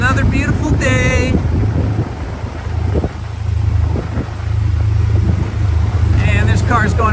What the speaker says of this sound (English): And there's cars going every which way.